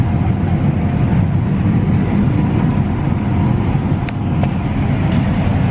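Inside the cab of a running combine harvester, a steady low engine rumble and mechanical drone continue without letup, with a couple of faint clicks near the end.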